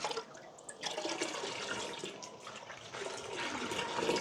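Liquid for a drinking challenge is poured steadily into a container, making a continuous close splashing and trickling sound that runs for several seconds with no talk.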